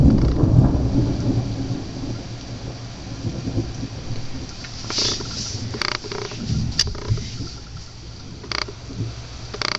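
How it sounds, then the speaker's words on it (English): Thunder rumbles outside during a rainstorm, a deep continuous roll with sharper cracks later on, over steady rain hiss, heard from indoors right after waking. "I heard big ass thunder"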